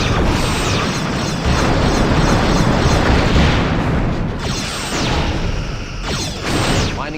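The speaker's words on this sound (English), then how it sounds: "Lining up forward torpedo tubes." Space combat in Star Trek Bridge Commander: continuous loud rumbling explosions and whooshing torpedo launches, with repeated bursts and booms layered over a dense, steady roar for the whole stretch.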